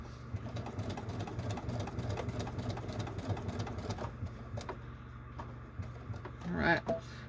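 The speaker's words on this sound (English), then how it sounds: "Next, I just have to sew around this detail" A sewing machine stitches around a curve on a clutch bag, a close mechanical whir in short bursts with brief pauses as the fabric turns, while a person talks quietly.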